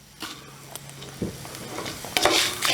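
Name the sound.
red chillies and curry leaves frying in a pan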